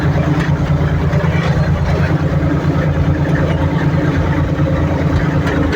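Kuchman potato digger running, a steady, loud low engine drone with continuous mechanical rumble and rattle, close by and unbroken, no voices.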